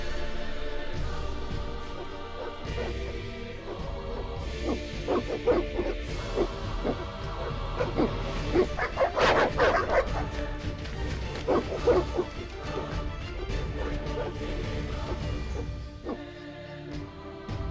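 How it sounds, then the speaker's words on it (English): Evil dogs barking in the 2007 CD Projekt Red video game The Witcher, repeated aggressive barks and yips over a tense, dense game soundtrack, the barking bunching up midway and continuing intermittently. "The evil dogs."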